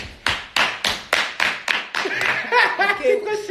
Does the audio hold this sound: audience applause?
yes